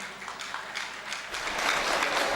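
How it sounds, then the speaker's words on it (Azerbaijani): Applause at a poet's 70th jubilee celebration rises from faint, scattered claps into a fuller round of clapping, moderately distant. "Əlvahid müəllimin şərəfinə bir gürültülü alqış eləyək."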